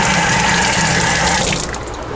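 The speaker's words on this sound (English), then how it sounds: "Rinse off the tweezers again." Tap water runs steadily while tweezers are rinsed in a fish room, a close, constant hiss and splash that thins out near the end.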